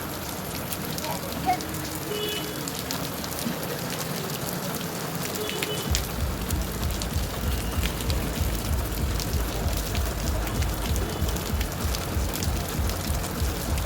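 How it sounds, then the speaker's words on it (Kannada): Steady rain pattering down on a surface, a constant hiss that grows heavier and denser halfway through. "ಮಳೆ ಬರ್ತಿದೆ"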